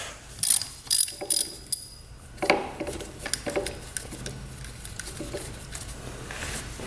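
A ratchet wrench loosens small 10 mm nuts on an old motorcycle that sat for 27 years, with a few sharp ratcheting bursts early and then softer intermittent clicks and scraping metal handling, close and without speech.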